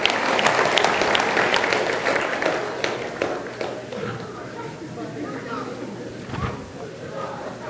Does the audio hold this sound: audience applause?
yes